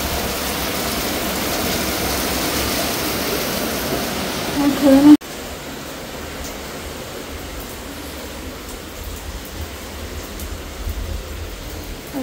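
Heavy rain as rainwater floods into a house, a dense loud rushing wash that abruptly falls to a softer, steady patter partway through.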